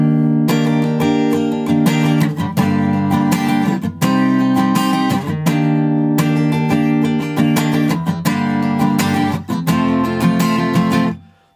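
Clean electric or acoustic guitar strumming a sequence of jazzy seventh chords from the Forza Horizon 5 menu theme, played solo at a relaxed pace with ringing sustained strums, fading out at the end.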